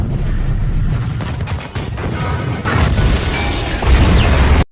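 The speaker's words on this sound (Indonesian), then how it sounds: "tiba waktunya bom dijatuhkan" Bombs explode in a war film: loud, dense rumbling blasts and crashing debris pile up in bursts, heavy low booms swelling toward the end before cutting off.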